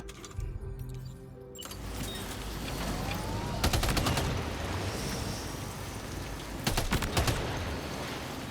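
Rapid bursts of video game gunfire aimed at BT jellyfish in Death Stranding 2, sharp clustered volleys standing out over a steady rumbling game soundscape, with no talk.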